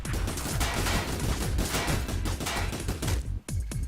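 Rocket fire in the game Frozen Synapse comes as a loud, dense barrage of rapid impacts and blasts that pounds on without a break and cuts off sharply near the end.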